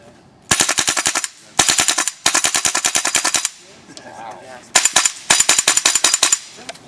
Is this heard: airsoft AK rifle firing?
yes